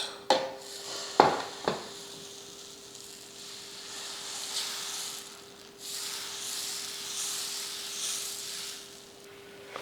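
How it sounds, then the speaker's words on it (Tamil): Dosa batter poured onto a hot, well-heated griddle, with a couple of sharp utensil clinks at the start followed by a soft, steady hiss and sizzle that swells and fades quietly, with no one talking. "இப்போ மாவு ஊற்றிடலாம்."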